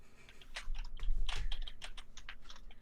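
Computer keyboard keys clatter in quick, uneven bursts of typing, fairly quiet and close, with no talking.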